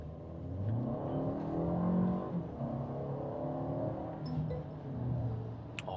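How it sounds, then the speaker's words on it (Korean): Engine noise hums inside the cabin of a Mercedes-Benz GLB250, the pitch climbing as it accelerates, then easing and rising again; a steady, muffled drone with no talking. "확실히 엔진 쪽에서는 소음이 많이 올라오는데"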